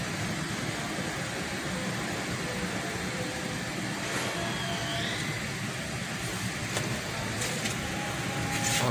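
A Toyota Corolla 1.6 engine idles low and steady around 650-700 RPM, humming continuously, with a few faint clicks and a thin whine above it.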